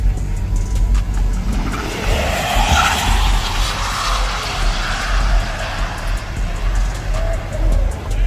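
A 6th gen Camaro with nitrous revs hard with loud tire squeal and skidding, a continuous roaring, screeching burst close by that swells and fades over several seconds, with faint voices in the background.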